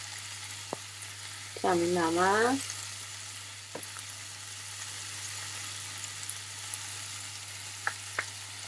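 Liver sautéing with tomato paste in a hot pan, a steady soft frying sizzle throughout with a brief louder stirring burst near the start and a few small clicks of utensils.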